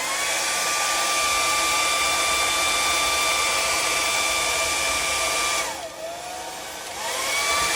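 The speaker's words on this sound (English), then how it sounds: "So this is just a standard hairdryer." A standard household hair dryer blows with a steady high whine and airy rush, then briefly drops in pitch and volume near the end before spinning back up to full speed.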